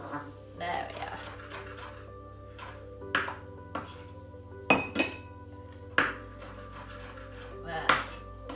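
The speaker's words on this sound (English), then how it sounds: "cut it into thin strips, and again into small pieces" A knife chops chili on a board into thin strips and small pieces, with a handful of separate crisp taps and knocks, some clustered, in a quiet kitchen.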